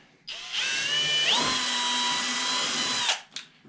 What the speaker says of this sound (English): I'm going to drill my 1/4.